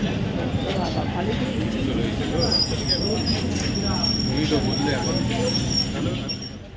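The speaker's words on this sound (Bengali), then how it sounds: "চলো ট্রেনে উঠে যাই, ট্রেন ঢুকে গেছে" A train pulls into a station platform on a rainy, foggy day, with a steady loud rumble and a thin high wheel squeal throughout as people talk nearby.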